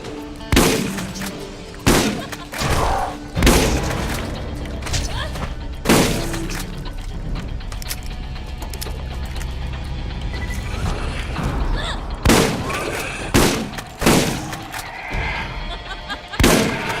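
Shotgun blasts in Borderlands, a Dahl-allegiance playthrough at Treacher's Landing, boom out in loud, irregular bursts, several in quick pairs near the start and again near the end, over a constant game-sound bed.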